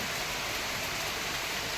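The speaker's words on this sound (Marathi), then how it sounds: "असा पाऊस खूप पडला आहे" Heavy monsoon rain falling in a Konkan village in Chiplun, a dense, steady wash of rain with no pauses over a short stretch.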